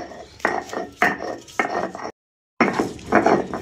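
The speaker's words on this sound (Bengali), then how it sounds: "এবার আমি লাউ পাতাটাকে আর কটা কাঁচা রসুন আর সঙ্গে অ্যাড করে আমি এবার এটাকে বাটছি" Bottle gourd leaves and raw garlic being ground on a stone grinder, a rough scraping rasp repeated in four short rhythmic strokes, close and loud, with a brief pause before the last stroke.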